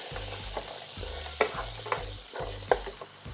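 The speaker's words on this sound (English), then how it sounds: "I'm just gonna throw in my carrots and let these guys saute up for a couple minutes." Carrots sautéing in a pan with a soft sizzle, punctuated by a few sharp scrapes and taps of a utensil stirring them, close by and without speech, a low rhythmic hum running underneath.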